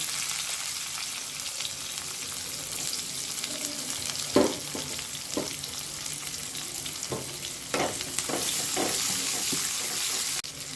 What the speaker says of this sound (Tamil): கொஞ்சம் சீரகம் இது பொரிஞ்சதும் நம்ம தட்டி வச்சுருக்க பூண்டை சேர்த்துக்கலாம் அதுக்கப்புறம் வெங்காயம்